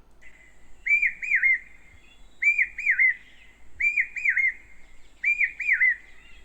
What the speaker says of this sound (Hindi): अब चातकों की पीयू पीयू सुनिए।